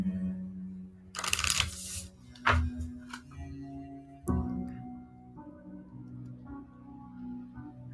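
Lenormand cards shuffled by hand at a table, soft papery riffles and taps in short bursts, with a few sharper clicks, close and fairly quiet against a low room hum.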